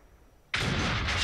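A Jagdpanzer E100 tank destroyer in World of Tanks fires its cannon once, a sudden loud close blast that cuts in after a quiet moment and rolls on as a sustained roar.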